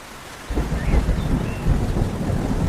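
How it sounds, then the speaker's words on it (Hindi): A heavy rainstorm with thunder in a Hindi cartoon: a loud, close rumble of thunder rolls in over a steady downpour and keeps churning under the hiss of rain, with no one speaking. "उस तेज बारिश और तूफान में अपने टूटे हुए घर को छोड़कर वहाँ से निकल पड़ते हैं।"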